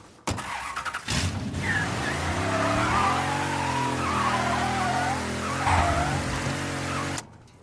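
In Mafia 3, a car arrives with its engine roaring and tires skidding, a loud, sustained screech under the engine that lasts several seconds before cutting off abruptly.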